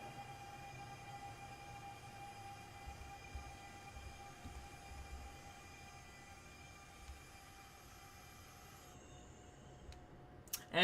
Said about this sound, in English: it's a very nice train to listen to